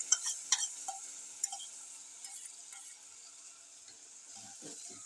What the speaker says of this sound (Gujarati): તો હવે આપણે આમાં પલાળેલી ખીચડી નાખીશું